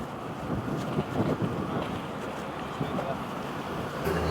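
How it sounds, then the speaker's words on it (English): Strong, heavy wind buffeting the microphone at a ferry port in Scotland, a continuous loud roar with gusty swells throughout. "The wind is quite heavy today, quite strong."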